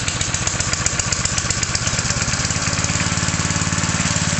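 A portable pump's small petrol engine catches after a single swift pull of the starter cord and settles into a steady, loud, close putter.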